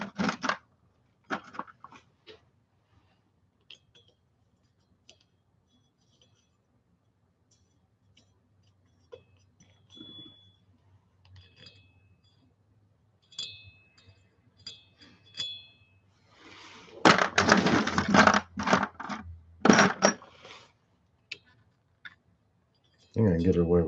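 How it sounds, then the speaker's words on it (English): Screws being fitted into the gasket cover of a gas bike engine: sparse small metallic clicks and taps at close range, building to a dense burst of rattling and scraping near the end, with someone speaking between the sounds. "Put a couple screws in."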